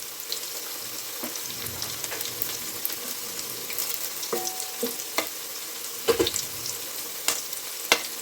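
Ghee and leftover ground spice masala fry in a pan for paneer biryani, giving a close, steady sizzle with scattered sharp pops and stirring clinks, no speech.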